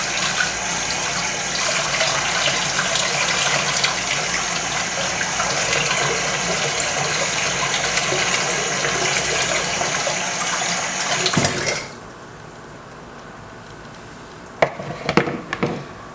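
Kitchen tap water gushes steadily while fresh scallion, onion and thyme are rinsed, then cuts off abruptly, leaving quiet with a few small clatters.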